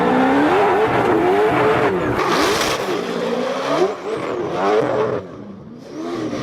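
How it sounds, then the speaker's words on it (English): Drift car lapping a team drifting competition course, engine loud and close with continuous revving, rising and falling pitch through gear changes, and tire squeal and skidding throughout, dropping briefly near the end. "So we'll cut to this clip where Julian did his first lap in Matt Field's car"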